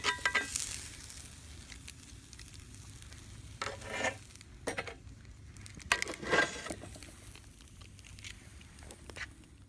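Steak sizzling in a pan on a cast iron Lodge Sportsman hibachi grill, a soft, steady hiss with faint scraping and clinks as the pan is handled.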